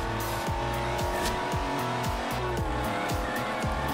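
A car in Forza Horizon 2 drives with a loud, steady engine whose pitch climbs and drops through repeated gear shifts, with occasional tire squeal and no speech.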